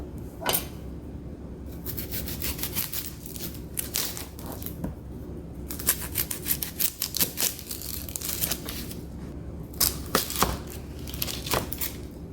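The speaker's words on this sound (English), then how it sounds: "I'm going to go ahead and dice up about half of an onion and a few cloves of garlic." A knife dices half an onion and a few garlic cloves on a cutting board, making quiet, close, rapid clusters of tapping chops that come in bursts separated by short pauses.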